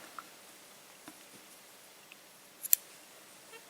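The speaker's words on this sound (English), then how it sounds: "Now you can cut your yarn" Scissors snip through crochet yarn in a quiet room, giving a couple of faint, short cuts with one sharper, closer snip near the end.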